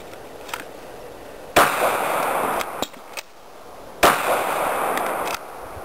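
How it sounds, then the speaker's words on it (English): Pistol shots in a practical shooting drill, two sharp loud reports a few seconds apart, each followed by a ringing echo. Between them come faint clicks and handling noise. "Now as you can see, I'm not shooting real fast."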